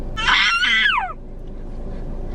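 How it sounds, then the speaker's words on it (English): A baby screams in one loud, high-pitched burst of about a second that slides downward at the end, then quiet room tone follows. "someone's just learned how to scream, I guess."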